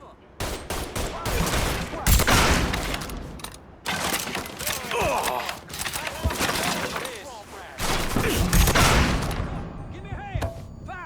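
Gunfire from the Mafia III video game: dense, loud bursts of repeated shots and fusillades with crashing impacts, broken by short gaps, with shouted voices mixed in.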